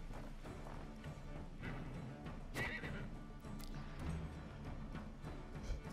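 Horse whinnying in the medieval strategy game Wartales, a clear neigh rising over busy battle clatter and hoofbeats, fairly loud and close.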